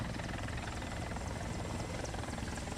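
An Mi-8 helicopter in a video game gives off a steady, dense rotor and engine drone that stays constant and loud throughout, with no voices over it.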